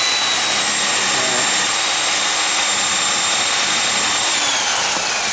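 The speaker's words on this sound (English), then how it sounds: "I've started buffing on it. I'm being risky. I use this wool pad" A polisher with a wool pad buffing freshly color-sanded paint on a '69 Camaro hot rod gives a loud, continuous whirring hiss with a thin high whine on top, close and steady throughout with no talk.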